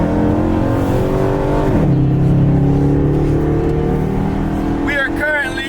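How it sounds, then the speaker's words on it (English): An LS-swapped Camaro with a custom exhaust cruising under load, a deep continuous droning rumble that shifts pitch as it changes gear, loud and close from inside the car, with a voice briefly heard near the end. "One downside to the badass custom Tom's Refurb exhaust is that it drones."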